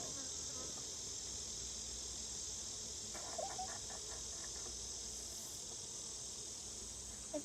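Honeybees buzz around an open hive during an inspection, a continuous steady drone close by with a few brief clicks and knocks.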